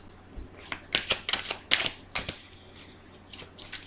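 A deck of oracle cards is cut by hand in a series of crisp, close taps and quick card slaps, irregular and bunched, with no talking.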